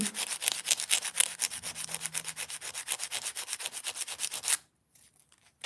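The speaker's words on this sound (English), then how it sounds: "I'm going to file that side a little bit" A nail file rasps back and forth across fingernails in a fast, even run of about three dozen short strokes, close and crisp, then stops abruptly, leaving near silence with a few faint touches.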